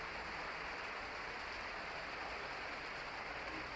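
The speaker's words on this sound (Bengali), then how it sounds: "প্রচণ্ড বৃষ্টি দেখেন প্রচণ্ড বৃষ্টি" A steady, dense hiss of heavy rain pours down without pause, filling the background evenly, around Eid al-Adha.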